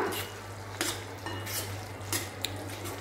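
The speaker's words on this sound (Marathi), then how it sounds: "आता हे सर्व मिक्स करून घेऊया" A spoon stirs spices into a cauliflower and pea curry in a pan, giving irregular metallic scrapes and clinks over a low steady hum, with a faint sizzle and no talking.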